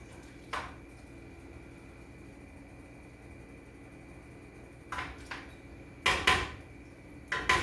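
Mongolian beef cooking in a wok over low heat brings a few sharp metallic clanks and scrapes of a utensil against the pan, spaced apart over a quiet background hum.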